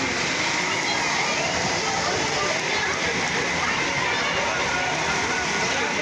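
A heavy downpour with strong winds roars steadily close by, a thick constant wash of rain with faint voices underneath.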